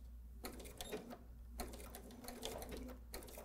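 Bernina sewing machine stitching, with bursts of rapid, even mechanical needle strokes broken by short pauses, faint and close.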